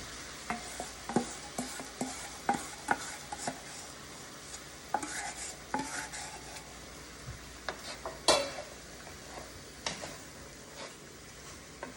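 Soy sauce, fish sauce, brown sugar and sriracha tipped into a hot pan of spaghetti squash with pork and vegetables, giving a low sizzle under repeated scraping stirs and utensil clicks.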